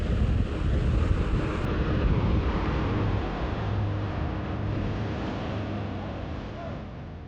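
Strong wind in California buffets the microphone with a steady, roaring rush of noise throughout, loud and close, without any clear speech.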